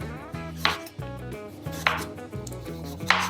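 A knife slices a carrot into thin strips on a board, with crisp, evenly spaced chopping strokes, close and clear, with no talk.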